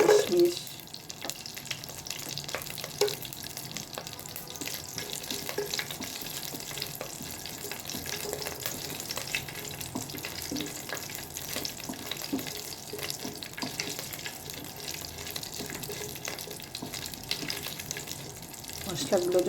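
Raisins added to cardamom, cinnamon and bay leaf fry in a pan for zarda pulao, making a continuous even sizzle with faint stirring scrapes, heard close up.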